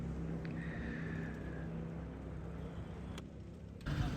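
Motorbikes gathering at a weekend riders' meetup, a continuous low engine drone with wind buffeting and a sharper burst near the end.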